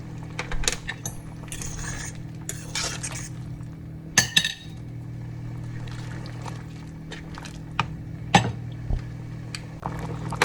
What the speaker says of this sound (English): I'm gonna now put in my dumpling